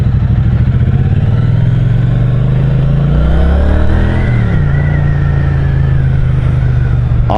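Triumph Street Cup motorcycle accelerating hard, its engine note climbing loud and close with a brief dip as it shifts gear, then pulling steadily on.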